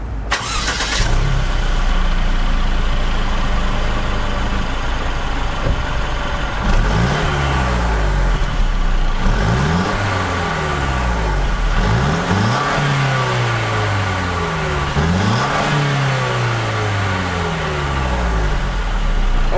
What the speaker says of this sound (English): so that was the engine with 241 horsepower and 273 pound-feet of torque